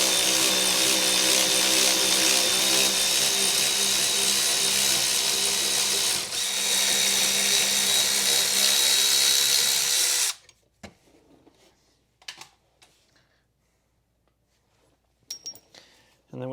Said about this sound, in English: So we're going to loosen this lower 14 mil bolt here.